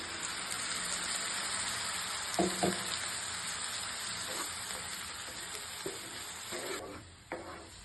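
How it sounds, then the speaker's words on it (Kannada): Tomato paste hits a pan of frying egg masala with garlic paste, giving a steady, close sizzling hiss with a few soft stirring knocks and scrapes. "ಟೊಮ್ಯಾಟೊ ಪೇಸ್ಟ್ ಹಾಕ್ತಾ ಇದ್ದೀನಿ,"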